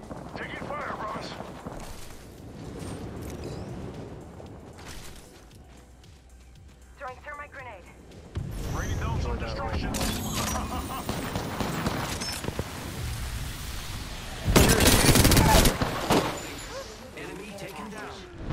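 Gunfire rattles in a round of Apex Legends, with bursts and single shots mixed among in-game effects. Players talk throughout, and a loud volley comes near the end.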